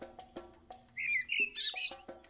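Birds chirp in the Copycat video game, a run of bright, quick tweets and trills in the middle, over soft plucked background music.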